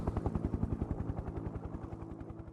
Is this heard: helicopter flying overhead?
yes